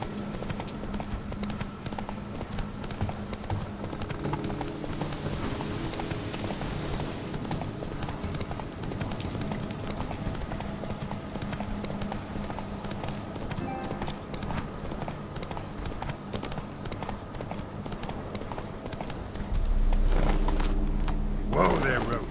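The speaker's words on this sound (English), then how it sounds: "Whoa there, Roach." Roach, the horse in The Witcher 3: Wild Hunt – Hearts of Stone, trots with steady, close clip-clop hoofbeats under game music and occasional speech, ending in a heavier thump as the ride slows.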